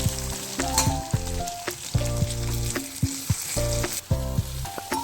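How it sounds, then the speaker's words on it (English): Steady frying sizzle of sliced tomato in a pan, with frequent clinks and scrapes of a utensil stirring through it. "You can see the tomatoes are frying"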